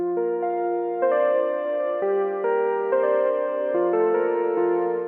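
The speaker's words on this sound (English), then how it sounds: "Now this is a very nice luscious pad with string kind of feeling" A smooth, sustained synth pad shifts slowly through soft chords, its warm layered tone carrying a string-like feel.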